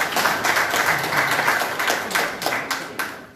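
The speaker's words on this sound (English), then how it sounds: "A round of applause for" Applause at an opposition press briefing, fairly close hand claps that swell and then thin out near the end, several sharp individual claps standing out, with no talking.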